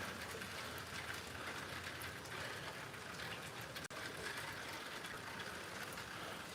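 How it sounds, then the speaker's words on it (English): Steady outdoor rain falling after a full day of rain, a dense even hiss with no voices, constant throughout apart from one brief dropout. "when it's just been raining like this all day long"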